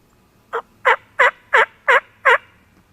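A wild turkey gobbles six times in a quick, evenly spaced series, loud and close, with quiet surroundings between calls.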